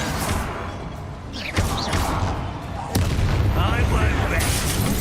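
Fiery Confringo spell explosion in Hogwarts Legacy, a loud boom with rumbling blasts and crackle amid game sound effects and voices, the sharpest hit arriving near the end.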